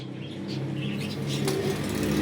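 A flying-breed pigeon flapping its wings in flight, a short, close flurry of whooshing wingbeats that rises in loudness toward the end.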